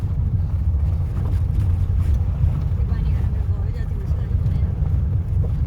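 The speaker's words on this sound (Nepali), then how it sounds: "यो हावाको आवाज हो यो" Strong wind blows on a mountain road on the way from Pokhara to Mustang, a loud, steady low roar buffeting the microphone throughout, with a voice speaking over it.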